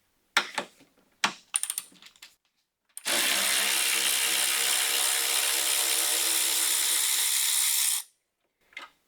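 Ten-millimetre bolts come out of the passenger fender of a 1999–2009 Chevy Silverado GMT-800 pickup. A few sharp clicks and rattles lead into a steady, loud whir from a power tool that runs for about five seconds, then a brief final burst.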